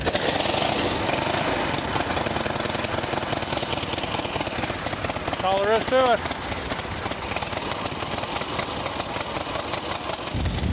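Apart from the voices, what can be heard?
antique motorcycle engine kick-started and idling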